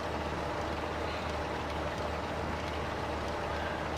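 An old farm tractor engine idles in a steady, close, continuous rumble that neither rises nor falls and has no voices over it.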